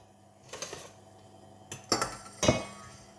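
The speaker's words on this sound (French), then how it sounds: "Je vais remettre tout ça à cuire dans ma casserole" Metal and glass clink and clatter in a few short bursts as a saucepan and utensils are moved about while making crème pâtissière.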